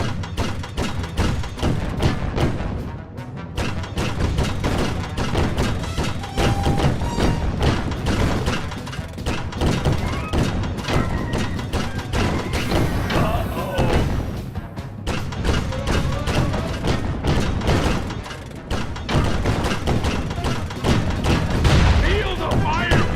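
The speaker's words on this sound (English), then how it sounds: "I'll show those chumps how to use a cannon!" Cannon fire in the video game Sly Cooper: Thieves in Time makes a long, rapid barrage of heavy thumps, booms and crashes. Character voices are heard over the relentless blasts.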